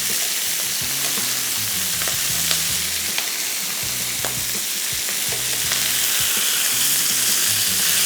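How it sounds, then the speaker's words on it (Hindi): Chicken in gravy sauce fries in a pan with a loud, constant sizzling hiss, along with scraping sounds from repeated stirring and no voices. "इसको थोड़ा सा और फ्राई करेंगे"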